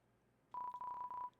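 A landline phone in the Deltarune video game dials out with a steady electronic dial tone that starts abruptly, breaks briefly twice, then stops, loud and alone.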